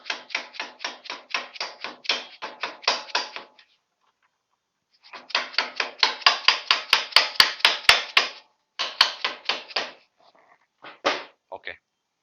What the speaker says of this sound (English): I'm just going to hammer this.